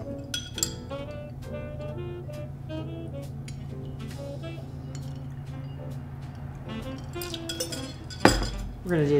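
A rye Old Fashioned is stirred over ice in a glass, with continuous light clinking and tinkling at close range, ending in a louder clatter.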